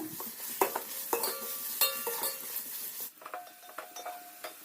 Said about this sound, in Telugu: ఇవి కూడా బాగా ఫ్రై అయ్యేంత వరకు వేపుకోవాలి.